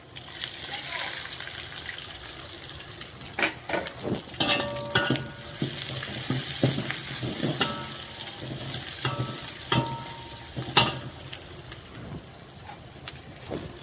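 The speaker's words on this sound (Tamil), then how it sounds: "வெங்காயம் நல்லா வணங்கணுங்க" Onions fry in a pan for mushroom biryani, a close, lively sizzle broken by repeated sharp scraping and clinking of stirring at an uneven rhythm.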